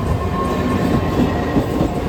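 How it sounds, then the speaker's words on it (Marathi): A train rumbles close by with a heavy, continuous low roar and steady rail clatter throughout. "ट्रेन अजून इली नाही, कुठली वाट बघतो ती"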